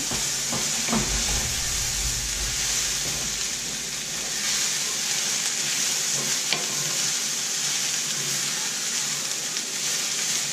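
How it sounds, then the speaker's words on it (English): Vegetables and noodles sizzle and fry steadily in a hot pan while being stirred, with scraping stir strokes over a continuous close hiss from start to finish. "Go ahead and stir that in."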